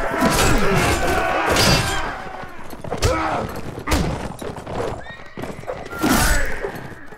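Horses neigh and whinny loudly with hoof clatter and thuds in a Mount and Blade Warband battle, several whinnies overlapping with crashing game effects throughout.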